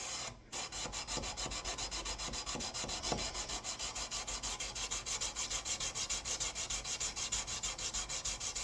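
Sandpaper rubbed by hand over a wooden knife handle, a steady, continuous rasping scrub with regular back-and-forth strokes, close and quiet, with no voices.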